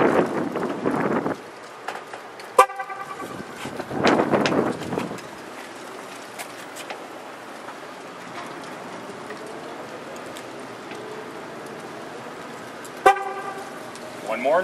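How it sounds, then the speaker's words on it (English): Horn of a C5 Corvette honking to confirm a tire pressure sensor reset, two short sharp toots well apart, amid rain and speech from people nearby. "when you do it right, the horn will honk and let you know that that tire is reprogrammed"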